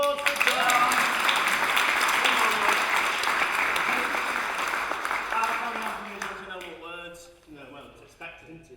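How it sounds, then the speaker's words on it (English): Studio audience applause for a guest on a TV chat show, loud and sustained dense clapping that gradually thins and fades toward the end, with a voice and music-like tones emerging as it dies down. "Round of applause for John."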